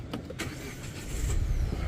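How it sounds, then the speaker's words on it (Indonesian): A Jetour X70 Plus SUV engine started by push button: a brief click, then the motor catching and settling into a steady close idle rumble. "Nyalainnya tinggal injek rem dan tekan engine start button di sebelah kiri sini"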